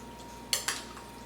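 A chicken tinga dip is moved into a larger bowl, marked by two quick, sharp clinks of a utensil against the dish over a quiet background.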